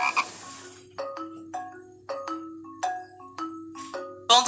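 A toad croaks by a small pond in a children's tale, with a string of about seven loud, close, ringing calls coming at a steady pace and no voices.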